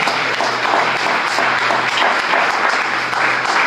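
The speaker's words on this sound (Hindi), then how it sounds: "तुम जोरदार तालियां दें प्रभु को।" A congregation at a Friday church service breaks into loud, sustained applause, with dense overlapping claps filling the room evenly from start to finish.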